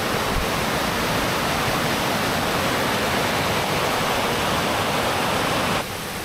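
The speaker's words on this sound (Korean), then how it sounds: "서천의 물소리가 우렁찹니다." The Seocheon stream rushes loudly and continuously nearby, a full, unbroken roar of flowing water with no voices.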